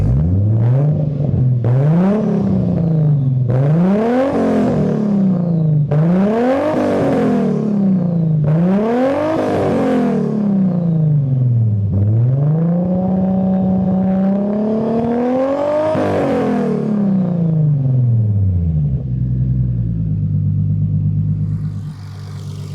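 A Nissan Skyline engine with coolant inside the cylinders warms up and revs, repeated rising and falling revs close by, about eight surges before it settles to a lower hum and cuts off.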